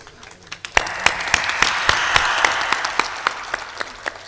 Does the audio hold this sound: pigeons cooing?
no